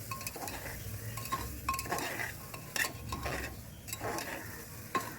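Ginger garlic paste frying and being stirred in a pan for a mutton lung curry, with a steady close sizzle under repeated scraping strokes and occasional metallic clinks of a spoon against the pan.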